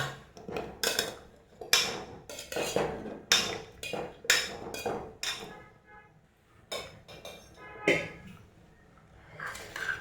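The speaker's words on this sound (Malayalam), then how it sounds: "അപ്പം നമ്മൾ നമ്മൾ മത്തങ്ങ അതിലേക്ക് ഇട്ട് കൊടുക്കുകയാണ്" Washed, cut pumpkin pieces dropped into a pan for a papaya-pumpkin curry, giving a series of close, irregular clattering knocks and clinks with short pauses between them.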